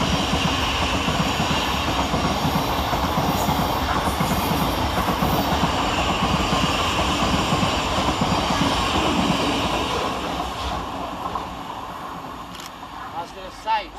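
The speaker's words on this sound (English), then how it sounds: "Next to pass through the station is 700 143, working 9 Sierra 28 for Thameslink from Brighton to Cambridge." A Thameslink Class 700 electric multiple unit, 700143 running from Brighton to Cambridge, passes through Preston Park station with a loud, sustained rumble and rapid wheel clatter that fades near the end.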